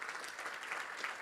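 Steady applause from a crowd of about 175 people at an annual meeting, soft and somewhat distant, continuous clapping with no voices standing out.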